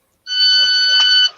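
A household appliance gives one loud, steady electronic beep lasting about a second, close by, with a bright tonal ring and no talking over it.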